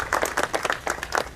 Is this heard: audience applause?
yes